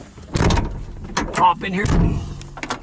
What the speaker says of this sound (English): Door shuts good and hard, which is good because it's sealing up nice